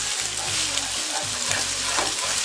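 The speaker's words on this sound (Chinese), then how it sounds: "油热倒入鸡蛋液，快速的把它滑炒开" Beaten eggs hitting hot oil in a wok and being stir-fried quickly, a loud steady sizzle with scraping stirs throughout, close up and without talk.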